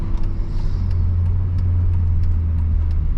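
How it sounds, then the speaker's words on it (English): A 2007 Mercedes-Benz SL55 AMG rolls over railroad tracks, its steady low engine and road rumble droning evenly from inside the cabin with only faint light ticks and no sharp clunks. "it rides spectacularly well over the railroad tracks too"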